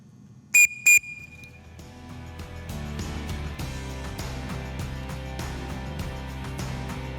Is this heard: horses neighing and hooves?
no